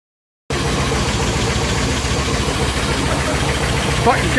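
A 1972 Range Rover engine bursts into life after a brief silence and settles into a loud, rough, steady idle with a slightly knocking, vibrating tone, close up, with a voice faintly present near the end.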